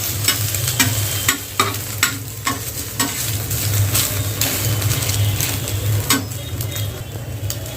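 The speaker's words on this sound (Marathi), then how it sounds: "तर चांगलं आता याला तर चांगलं असं फ्राय करून घ्या पलटी करा हा असं फ्राय करून" Egg-dipped bread fries in a pan with a strong close sizzle, broken by repeated sharp clicks and scrapes of a spatula as the slices are pressed and flipped.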